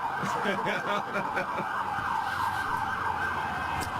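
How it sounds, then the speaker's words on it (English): A passing emergency siren wails along a New York City street, loud and close with a steady rising and falling tone over traffic noise. "So let the siren go by, hold on."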